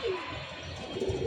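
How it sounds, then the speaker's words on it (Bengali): Rooftop pigeons cooing in low, rounded bursts at the start and again near the end, close by, with faint chirps and light background noise between. "এই হচ্ছে কবুতরগুলা।"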